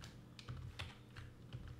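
Someone types a command on a computer keyboard while configuring a Cisco switch: a short run of faint, closely spaced key clicks in uneven rhythm, with no speech.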